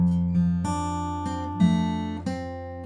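An acoustic guitar is fingerpicked solo through the opening two sections of a song, with a steady run of clean, sustained plucked notes that ring over one another, close and moderately loud.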